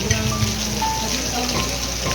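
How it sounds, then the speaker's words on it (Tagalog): Heavy rain pours steadily onto a surface, a dense, continuous hiss with a faint low hum underneath, close and fairly loud throughout. "Lakas ng ulan, guys, oh."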